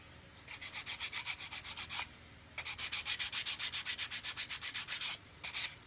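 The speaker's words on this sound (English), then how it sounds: "just come along with my coarse sanding stick, gently rub over the top" A coarse sanding stick rubs over dried glue on a plastic model kit roof section, making rapid, rhythmic scratchy back-and-forth strokes in two quick bursts separated by a brief pause. The sound is close and fairly quiet.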